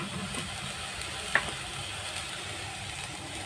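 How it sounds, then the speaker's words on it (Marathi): Fresh grated coconut stirred in a pot on a gas stove, a faint continuous sizzle and soft scraping with one brief sharp click. "आपण आता गॅसवरती पातेलं ठेवलं आहे. त्यामध्ये ओलं खोबरं घालूया."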